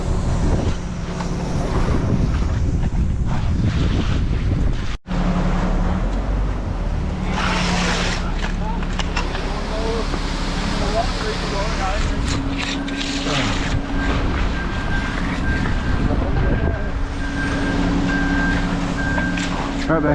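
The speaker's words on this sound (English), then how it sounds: "That wind ain't no joke today." Strong wind buffets the microphone outdoors on a concrete driveway job site, a steady low rumbling roar running throughout with brief dropouts, while people talk over it.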